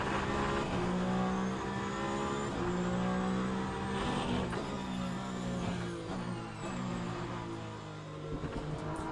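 A Peugeot hypercar engine revving hard from the cockpit, its pitch climbing and dropping through repeated gear shifts, loud and close throughout with no talk.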